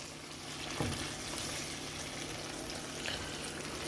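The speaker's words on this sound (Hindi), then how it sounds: "ये डाल के और इसे हम अच्छी तरह भुनाई करेंगे इनकी 4 to 5 मिनट्स के लिए" Potatoes and cauliflower frying in a pan for aloo gobi, giving a steady close sizzle and crackle with a brief clatter near the start and no talking.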